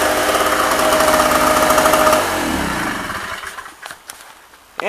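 A generator engine running after a cold start, its steady loud rumbling drone holding for about two seconds before it drops off and winds down into quieter rattling and knocking.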